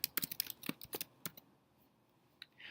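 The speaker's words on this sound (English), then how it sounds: "Now I would type a name for my program." Typing on a computer keyboard, a quick run of close, crisp key clicks for about a second and a half, then quiet with one more tap and a soft rustle.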